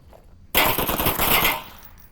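Automatic gunfire in the VR shooter Onward during a competitive match: a sudden loud burst of rapid shots starts after a brief quiet and rattles on for about a second before fading into echo.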